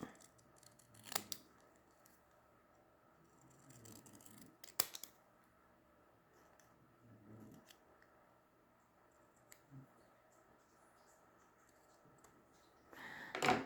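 Scissors trim paper page toppers for junk journal ephemera, giving a few quiet, separate snips and clicks close by in a very still room.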